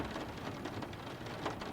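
Steady, dense rain hisses close and constant, with a low rumble of thunder mixed in, and no voices.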